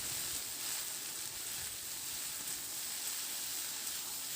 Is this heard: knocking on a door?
no